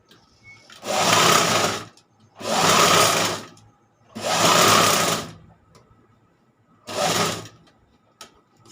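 A sewing machine stitches fabric in four separate bursts of close, loud needle whirring, each lasting about a second, with quiet gaps between and no talk.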